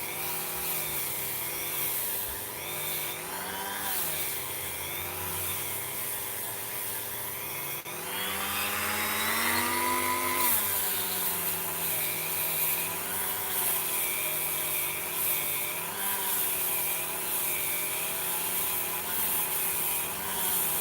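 A Dremel rotary tool grinding and cleaning solder joints, a continuous close, rough whining buzz that rises and falls in pitch as it bears into the work, growing louder after the first few seconds.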